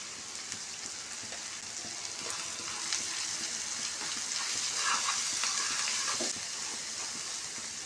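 Bitter gourd curry with onions sizzling steadily in a pan, a continuous bright crackle with soft popping, moderately loud and without talk.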